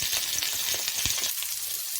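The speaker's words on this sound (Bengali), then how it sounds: "ভাজা ভাজা করে নেব" Peeled boiled potatoes frying in a pan for spiced potato curry, giving a steady sizzle throughout with a few soft clinks and stirring scrapes close by, no voices.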